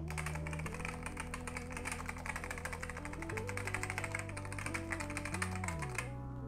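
Rapid typing on a Topre Realforce capacitive-switch keyboard, a dense run of soft, crisp keystrokes heard close and quiet for several seconds with no voices.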